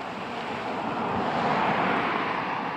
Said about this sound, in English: It's a little windy, guys, today. I'm sorry if you get a little bit of that in the background.